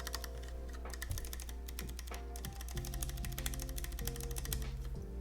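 Close, steady typing on a mechanical keyboard with freshly lubed Costar stabilizers, a quick stream of crisp keystrokes with occasional heavier thocks, continuous and alone.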